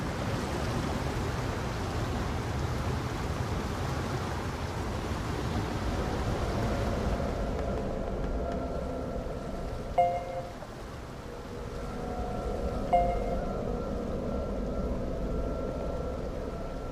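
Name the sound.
rain in NieR Re[in]carnation video game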